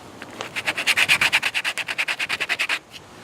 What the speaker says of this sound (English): We're going to sand it a little bit